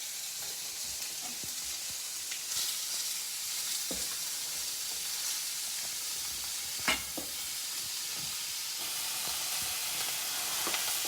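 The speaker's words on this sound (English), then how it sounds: "Let that sizzle away." Fatty pork fries in a pan without added oil, giving a steady, close sizzle and hiss with occasional small pops and scrapes of stirring throughout.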